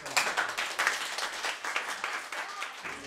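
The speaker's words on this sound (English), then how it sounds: "And a round of applause." Applause following a children's puppet performance, a few seconds of scattered, uneven clapping from a small nearby audience with individual hand claps distinct, no one speaking over it.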